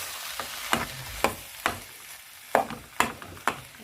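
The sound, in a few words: stirring and mashing githeri with potatoes for mukimo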